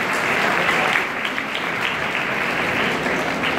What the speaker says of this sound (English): a big round of applause to each of you